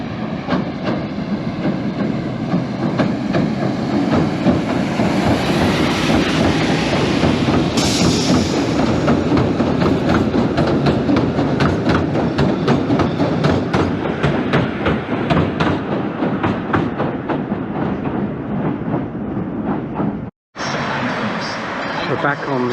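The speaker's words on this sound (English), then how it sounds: "And back comes the train." A seaside pier train runs past with a steady rumbling, clattering roll that holds loud and close for most of the stretch, cutting out abruptly near the end before resuming.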